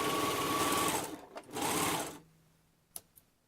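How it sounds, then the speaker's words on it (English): A serger runs in two fast, loud bursts while finishing doll underwear, with a short pause between them, then falls quiet apart from a few faint clicks. "I'm gonna go ahead and bring this to my serger again"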